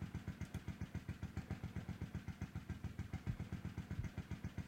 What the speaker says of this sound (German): Und jetzt geht der Motor an wahrscheinlich.